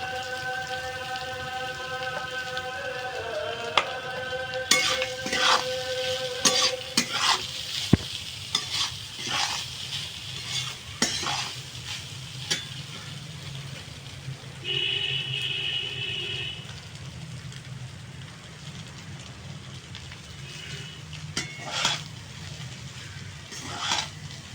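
Rice stir-fried in a pan for fried rice, with a steady soft sizzle and repeated scraping, clinking spatula strokes throughout, a few sharper knocks and taps, no voices.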